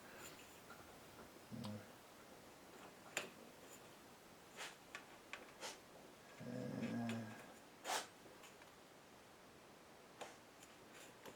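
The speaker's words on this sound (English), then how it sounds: "That noise you hear in the background is my dog chewing on a bone." A dog gnaws on a bone in the background of a quiet room, giving faint scattered clicks, crunches and a few brief grinding bursts at irregular intervals.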